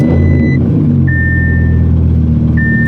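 A supercharged car with a Valvetronic exhaust and high-flow cats runs loud and close, a deep steady rumble with harmonic drone throughout, with a faint intermittent high beep recurring in the background.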